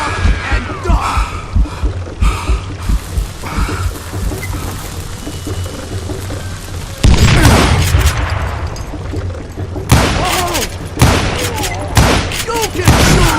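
Gunfire in the Western shooter Call of Juarez: Gunslinger: loud, close shots and booming blasts break out in bursts over a continuous background wash.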